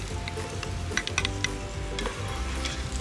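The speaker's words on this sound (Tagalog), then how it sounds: "So una natin gagawin ay maggisa. Lagyan natin ng mantika." Garlic, onion and tomato sautéing in cooking oil, a steady close sizzle with scattered stirring clicks and scrapes from the pan over three seconds, no voices.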